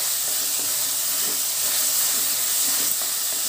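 Capsicum and tomato curry fries in a pan with a constant, dense sizzling hiss that stays loud and even from start to finish, with no voices over it.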